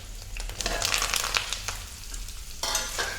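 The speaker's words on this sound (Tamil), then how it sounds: "இப்போ நம்ம கட் பண்ணி வச்சுருக்கக்கூடிய உருளைக்கிழங்கை எண்ணெயில் சேர்த்துக்கலாம்." Cut potatoes frying in hot oil with curry leaves, a steady crackling sizzle with bursts of popping and stirring scrapes, close and loud, no voices.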